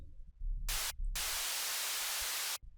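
Bursts of bright hissing white noise from a synth layer switch on and off, with a short gap, then a long sustained wash of static before stopping abruptly.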